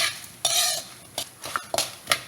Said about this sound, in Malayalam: ഒരു 4-5 ചില്ലി, കാശ്മീരി ചില്ലി ആയിട്ടിരിക്കുന്നത്